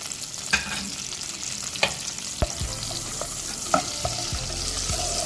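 Green chillies and garlic fry in hot oil for a tadka, a constant close sizzle broken by a few light clinks and scrapes of a stirring spoon against the pan.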